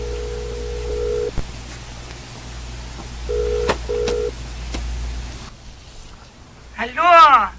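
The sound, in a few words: dialing a cellphone call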